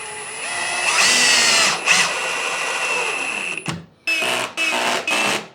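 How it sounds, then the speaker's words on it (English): A power drill fitted with an extension drives a screw into a DIY powerwall build: a long whirring run with a brief pause, then three short, loud bursts of the motor close by. "let's go ahead and stick this in here and screw this in"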